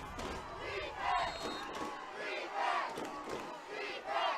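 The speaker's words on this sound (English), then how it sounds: "Red Hawks sideline trying to get the crowd into it" Football crowd at a high school state playoff game with the Red Hawks sideline rallying fans, a swelling mass of shouting and cheering voices rising and falling in waves.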